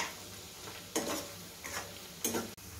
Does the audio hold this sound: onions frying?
yes